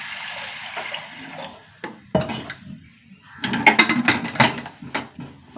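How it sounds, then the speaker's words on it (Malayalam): Water poured into a pressure cooker holding lentils with turmeric and salt, heard as close splashing and gurgling in bursts with clinks of the metal pot. "വെള്ളം ഒഴിച്ച് കൊടുക്കാം കേട്ടോ."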